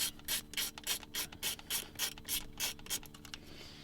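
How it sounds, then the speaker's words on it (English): A 1/4-inch drive ratchet fitted with a T30 Torx bit turns out hardware on a Ford F250, giving a quick run of rhythmic ratcheting clicks, close and clear with no talking. "I have a 1/4-inch drive ratchet here"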